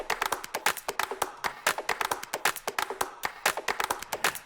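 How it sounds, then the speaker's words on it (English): Hand claps and punchy percussion from a music track play in a tight, energetic rhythm of close, crisp hits that repeat steadily throughout, with no talking over them. "there's a lot of energy in that percussion and clap"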